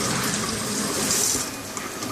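A strong stream of tap water splashes into a sink as a metal test part is rinsed of acid in an engineering materials lab, steady and close throughout.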